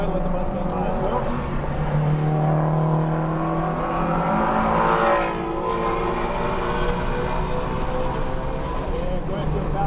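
A Ford Mustang race car passes on the Circuit of the Americas track, heard as a steady loud engine drone with rising and falling pitch over ten seconds, from inside another car with its own engine and road noise.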